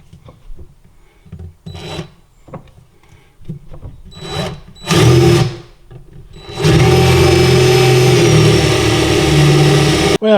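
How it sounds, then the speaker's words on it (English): A power drill bores a hole into a vacuum stand piece, starting with a few short bursts and handling knocks, then running loud and steady for several seconds before stopping abruptly. "I'll simply take a drill and center it in that hole"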